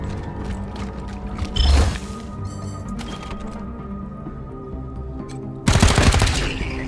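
Gunfire in the video game Wasteland 3, two loud bursts of rapid shots, one near the start and one near the end, with game ambience and mechanical clicks between them.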